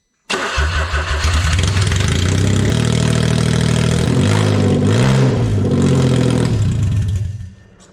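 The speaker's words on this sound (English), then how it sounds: "And here's what it sounds without the muffler." A Smart Car engine with no muffler cranks and fires abruptly, then runs loud and raw for several seconds with uneven throbbing and a couple of rising revs before cutting off near the end.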